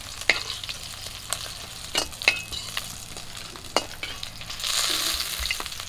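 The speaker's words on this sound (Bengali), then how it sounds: "মাছগুলো এরকম করে ভেজে নিয়েছি, বাকি মাছগুলো একই রকম করে ভেজে নেব।" Sarpunti fish fry in hot oil with a steady, close sizzle. Sharp clicks of stirring or turning break through at irregular moments, and the hiss swells louder near the end.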